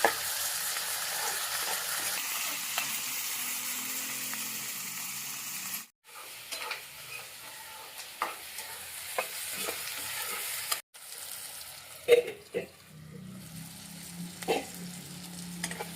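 Tomato frying in a pan for paneer curry, a soft continuous sizzle punctuated by scraping and clinking as it is stirred, with two brief breaks.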